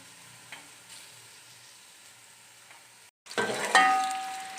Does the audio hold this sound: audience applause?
no